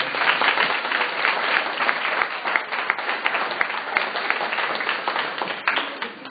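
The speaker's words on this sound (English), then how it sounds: "Please give a round of applause to Jackie Stone" An audience at a live panel event gives a round of applause for a panelist, a steady wash of many hands clapping that holds for several seconds before easing off slightly at the end.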